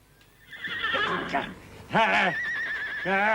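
A horse neighs in an old Sherlock Holmes film drama, a loud, close whinny that rises and then breaks into a second shuddering call, with other film sound underneath.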